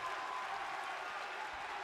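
Arena crowd noise in the WWE 2K20 wrestling video game at Full Sail for an NXT match, a steady wash of cheering and applause running through the whole stretch with no break.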